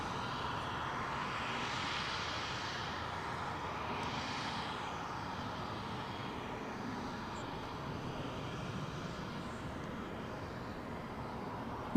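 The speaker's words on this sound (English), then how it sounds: "This will be an 8-year-old aircraft." Airplane at DFW airport, a distant, moderately quiet engine drone that swells and fades in slow waves, with no talk.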